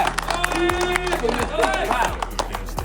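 An audience claps for a first-place winner at a prize ceremony after a 30 km walk, with steady close applause mixed with a voice speaking over it.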